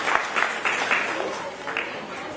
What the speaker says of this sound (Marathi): टाळ्या वाजवून स्वागत करूया प्रशांत केंद्रे यांचं